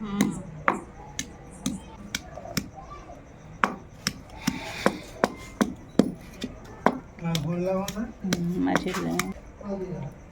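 A knife chops raw mango into small pieces, with sharp, irregular taps against a board, a few close strikes, and a voice briefly talking near the end.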